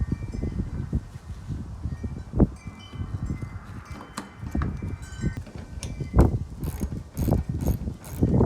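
Ratcheting wrench clicks and metallic tool rattles come from removing 10mm screws under the front bumper of a Nissan Juke, a busy close mechanical clatter with irregular sharp ticks throughout.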